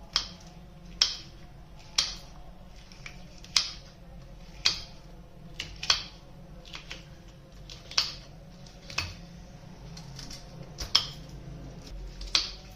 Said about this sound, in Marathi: सगळी शिमला मिरची चिरून घ्यायची